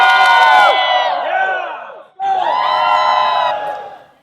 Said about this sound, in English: Pretty impressive crowd, you have to admit.